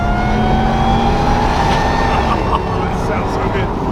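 A loud engine of a Ford Raptor pickup truck fitted with a Whipple supercharger revs hard and roars steadily as it accelerates, with a constant rumble and some wind noise throughout.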